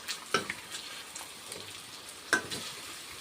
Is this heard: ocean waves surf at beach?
no